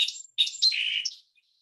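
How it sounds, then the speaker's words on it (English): A song sparrow sings a short, bright phrase of high trills and buzzy notes, clear and close, then stops. "Okay, that's a song sparrow."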